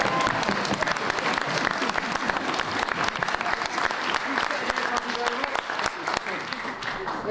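Wedding guests celebrating a newly married couple with loud, continuous clapping from a crowd, mixed with thumping stamps, dense and sustained for over seven seconds, with voices underneath.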